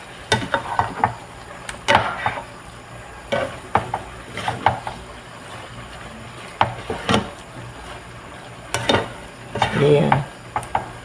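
Chinese cabbage (pechay) sautéing in a pan with leftover food, stirred by hand: scattered scraping and clacking strokes of a utensil at close range over a soft sizzle, in irregular bursts with short pauses between.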